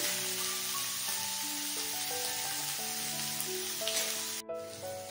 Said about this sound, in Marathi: आपल्याला कारली पण परतून घ्यायची व्यवस्थित, तो रंग बदलला पाहिजे